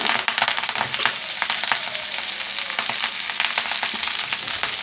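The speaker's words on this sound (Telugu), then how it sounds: "ఇప్పుడు అదే పానులో ఇంకొంచెం ఆయిల్ వేసుకుని కరివేపాకు వేయించుకుందాం" Curry leaves frying in hot oil in a pan, a loud, dense, continuous crackling sizzle that holds steady throughout with no talking.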